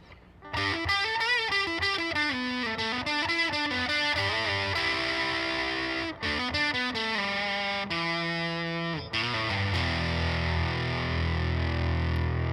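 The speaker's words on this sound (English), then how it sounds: "That's full volume, full fuzz on the Dunlop Jimi Hendrix Fuzz face" Heavily fuzzed electric guitar, a Hendrix Stratocaster on the bridge pickup through a Dunlop Jimi Hendrix Fuzz Face at full volume and full fuzz, plays a busy, sustained lead line, loud and saturated, with no voices over it.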